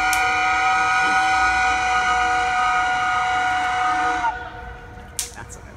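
A paddle wheel boat on Lake George lets out a long, loud, steady whistle blast that holds for about four seconds and then cuts off, leaving faint outdoor background noise.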